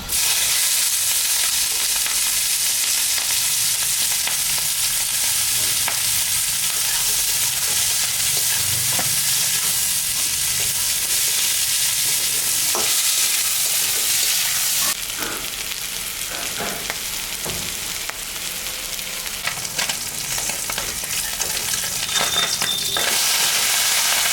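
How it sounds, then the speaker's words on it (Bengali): Chopped onions, green chili and ginger fry in a pan with dried red chili and nigella seeds, a continuous close sizzle with occasional stirring scrapes and clinks throughout. "পেঁয়াজটা ভাজা ভাজা হয়ে গেছে"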